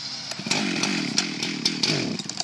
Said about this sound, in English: That's how to start a chainsaw.